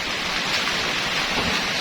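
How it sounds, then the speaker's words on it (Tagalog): Dense, steady rain pours down hard with a constant hiss, no pauses. "malakas ng ulan abot na yung side ko"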